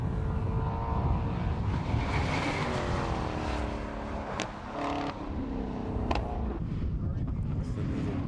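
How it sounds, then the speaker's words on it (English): A Ginetta race car engine howls down the back straight, rising and falling through gear changes with sharp shifts, heard amid steady circuit background noise and commentary. "we'll give you some more engine noise"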